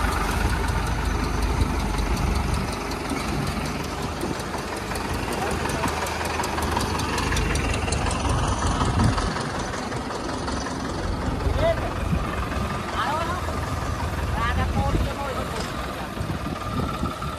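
Diesel engine of a Farmtrac 60 tractor running at a steady idle with a knocking, rumbling low throb, close to the microphone and continuous throughout.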